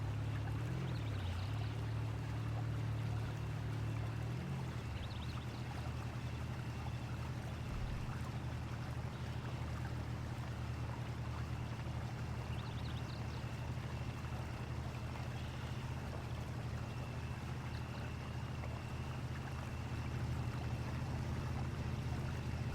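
4x4 truck in Spintires on an Aussie track, engine droning steadily with a low hum as it wades through water, a constant wash of splashing and rushing flow, with the engine note briefly wavering early on.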